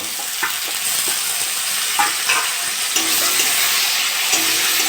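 Shrimp frying in oil with onions and spices in a pan, a steady close sizzle with occasional clicks and scrapes of stirring, no voices.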